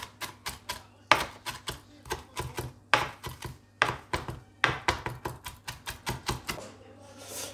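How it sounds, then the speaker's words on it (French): A kitchen knife chops food on a cutting board in quick bursts of sharp, close knocks, irregular runs of rapid taps separated by brief pauses, with no talking. "on va la hacher comme il se doit"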